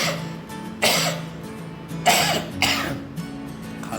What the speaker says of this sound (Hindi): खांसी ये तो दोबारा चालू हो गई।